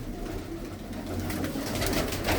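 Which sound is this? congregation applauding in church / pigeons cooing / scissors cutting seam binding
pigeons cooing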